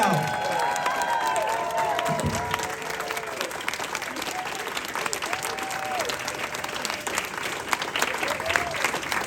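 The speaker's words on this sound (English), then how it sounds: "keep the clapping, keep the cheering, keep it going" Fan expo panel crowd at the Cantina Club applauding and cheering steadily, dense sustained clapping with scattered whoops and shouts throughout.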